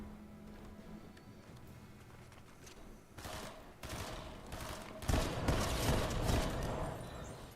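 A shotgun fires in a video game, with quieter mechanical clatter first and then a few loud broadband blasts from about three seconds on, the heaviest near five seconds.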